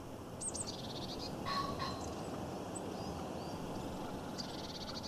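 A brief harsh squawking call from a male pheasant rings out near the start, then fainter calls follow over a steady outdoor background hiss.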